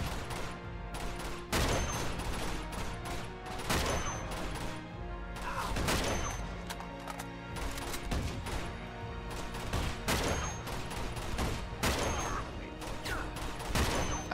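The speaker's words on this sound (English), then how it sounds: "I swear I hear somebody shooting from below." Uncharted 2: Among Thieves firefight with heavy, loud gunshots and bursts striking at irregular intervals across the scene, sharp impacts dominating with little talk.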